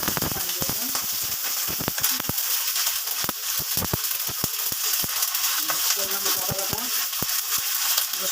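Onions fry in a pan with a loud crackling sizzle, broken by frequent sharp stirring scrapes and knocks from a spoon.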